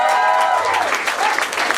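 A short burst of audience applause at an Indonesian stand-up comedy show, loud clapping from a crowd with some voices mixed in.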